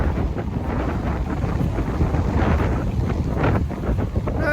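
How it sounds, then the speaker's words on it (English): A headwind blows hard across a beach hike on the Outer Banks between Rodanthe and Jockey's Ridge, buffeting the microphone with a steady, loud roar and gusty rumble. "but I do have a headwind"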